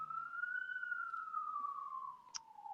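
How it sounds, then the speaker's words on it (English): An ambulance siren passing on a road outside: a single wailing tone that rises slightly, then slowly falls, fairly faint and steady over a low background hum, with no voices. "that's someone called the ambulance for you, Rob"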